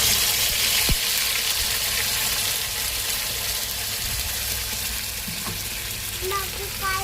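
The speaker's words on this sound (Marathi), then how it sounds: "कढीपत्ता नव्हता म्हणून तमालपत्राने फोडणी देते मी" Bay leaf and spices sizzle steadily in hot oil for a chicken keema tempering, a continuous close frying hiss with a few light stirring clinks and no talk.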